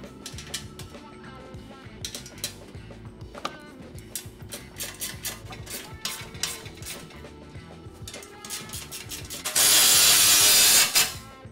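Bolts being fitted into a lawn tractor's rear seat bracket: irregular metallic clicks, ratcheting and tool knocks up close, then a loud burst of steady hiss-like noise for about two seconds near the end.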